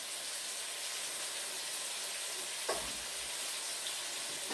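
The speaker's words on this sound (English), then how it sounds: "My chicken is almost done frying." Steady frying sizzle with a constant hiss of oil, a brief scrape or stir partway through.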